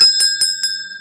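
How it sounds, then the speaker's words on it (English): Four quick, bright strikes of a bell, each ringing out close and clear over a sustained metallic tone that lingers briefly. "And we rang the bell, this very bell"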